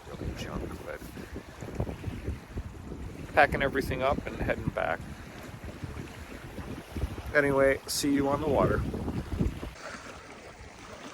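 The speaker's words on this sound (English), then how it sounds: "a bit of a stiff breeze coming out of the, almost right out of the north, bit of the northeast" A stiff north to northeast breeze blows across the Lake Huron North Channel shoreline near Fort La Cloche, a steady rushing wind-noise bed under a man's spoken remarks.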